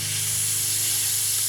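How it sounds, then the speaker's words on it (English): A steady broadband hiss of foot-and-mouth disinfectant sprayed onto a Land Cruiser at a park entrance in Botswana, continuous and fairly close throughout, with a low hum beneath. "The foot and mouth spray that you have to use before you go into the park."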